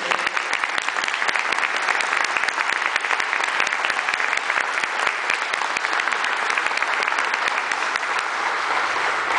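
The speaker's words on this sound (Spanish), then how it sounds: "Así que un aplauso para la Fundación." A concert audience at an international young musicians' meeting in Chile gives sustained, dense applause for a foundation, a steady crackle of many hands clapping with no voices over it.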